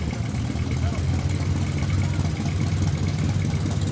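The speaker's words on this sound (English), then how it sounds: "Steve McGrath on a John Deere. John Deere 60. 1952 John Deere 60." A 1952 John Deere 60 antique tractor rolls by in a parade, its engine a steady low chugging rumble under loud crowd noise and talking throughout.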